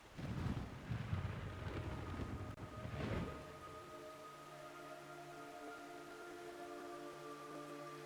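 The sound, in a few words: rain in a video game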